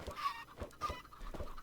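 Chickens in the Minecraft Sky Factory 3 modpack give several short, close clucks in quick succession, alone and without talk.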